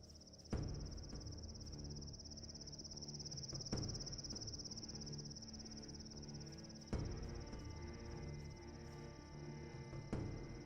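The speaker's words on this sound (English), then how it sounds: "Crickets are breaking again." Crickets chirp as ambient night sound in the video game Gothic II, a steady high-pitched trill running throughout, with a few soft thuds and muffled background noises beneath and no talk.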